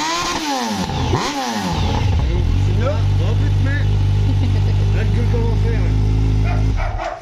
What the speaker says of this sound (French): Allez, on va tester la bécane là maintenant. Allez, on va voir le bruit.